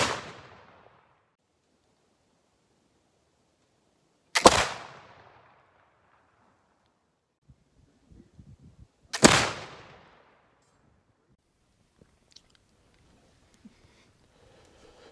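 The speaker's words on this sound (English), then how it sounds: "a little video of this rifle being fired" A flintlock rifle fires two loud, sharp shots a few seconds apart, each decaying in a long echo, with the fading tail of an earlier shot at the start.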